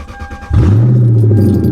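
A Lexus LS400 sedan with recent electrical issues cranks briefly and fires up, settling straight into a loud, steady low idle close by.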